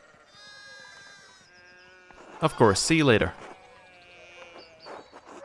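A few sheep bleat in the medieval village setting of the video game Pentiment, soft wavering calls early on, then a voice speaks over them and the bleats fade beneath the talk.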